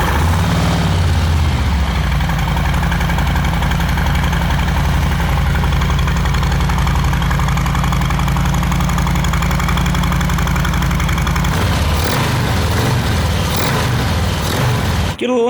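A Harley M8 Softail fitted with an S&S Stage 1 intake, untuned, fires up and settles into a loud, steady, lumpy idle close by, with a brief change in tone near the end.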